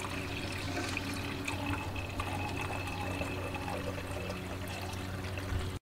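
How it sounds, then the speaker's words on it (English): Coolant pours steadily into the radiator reservoir of a Chevy Sonic/Cruze 1.4L turbo, a continuous close liquid gurgle and trickle with no voices. "Go ahead and fill your reservoir"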